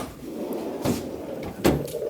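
A drawer under a workbench in a home workshop slides open or shut, two soft, short scraping knocks about a second apart over a low background hum.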